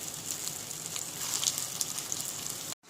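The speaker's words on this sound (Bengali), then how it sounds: "গুলোকে আমি আস্তে আস্তে তেলের মধ্যে ছেড়ে দিচ্ছি, এটাকে ভেজে নেব এখন লাল করে" Paneer malai kofta balls frying in hot oil give off a bright, crackling sizzle with scattered sharp pops, steady and close, ending in a sudden cut to silence.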